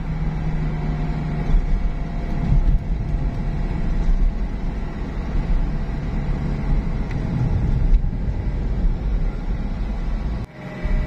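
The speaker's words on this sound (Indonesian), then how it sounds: "arus lalu lintasnya mantap ini." Road traffic flows steadily through Kairagi in Manado, a continuous even rumble of passing vehicles with no pauses and no voices.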